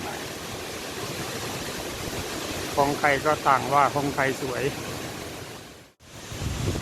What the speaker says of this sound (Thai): ที่ท่านเห็นอยู่นี้ก็คือน้ำตกคลองลานพระเจ้าค่า